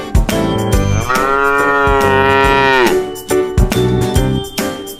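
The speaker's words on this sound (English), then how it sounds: "It's a cow." A cow lets out one long, loud, drawn-out moo lasting a couple of seconds, heard over an upbeat rhythmic backing tune.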